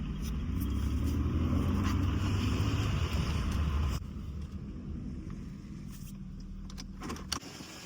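A 1996 car with bad brakes and no sway bar links drives along with a loud steady road rumble and engine drone that drops in level midway, plus a few light rattles and a brief knock near the end.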